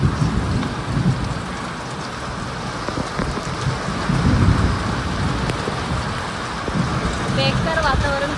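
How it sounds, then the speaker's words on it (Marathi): Heavy rain pours down at a farm as a loud, continuous downpour throughout, with a few sharper drips and knocks breaking through the steady roar. "पाऊस पण खूप पडते हे बघा"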